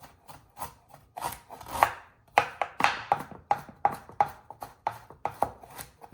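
Ginger is chopped with a knife on a cutting board in a steady series of close, crisp knocks, about two per second, with no one talking.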